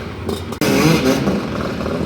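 Small engines rev and buzz close by as mopeds ride past on a street in Ukraine, loud and rough with a brief rattling clatter.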